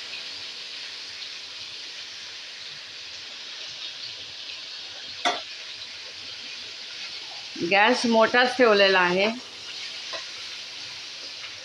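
Curry leaves, green chillies and dry coconut sizzle in hot oil in a pan on a high flame, a steady soft crackling hiss throughout, with someone briefly speaking over it partway through.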